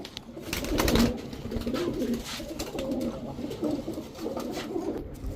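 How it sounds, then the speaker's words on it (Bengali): High-flyer Giribaz pigeons coo softly and repeatedly in a low, throaty rhythm, close by, with light rustling in the background. "এক জোড়া হাই ফ্লায়ার গিরিবাজ কবুতর"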